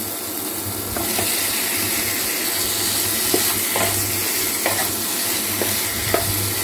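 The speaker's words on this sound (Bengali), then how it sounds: "এই যে মশলাটা ভালো করে ফ্রাই হয়ে গেছে তেল ছাড়ছে এবার আমি চিকেনের পিসগুলো দিয়ে দেবো" Masala paste fries in oil with chicken pieces, a loud close sizzle under a steady low hum, punctuated by several sharp scrapes and clinks of a spoon stirring, no speech.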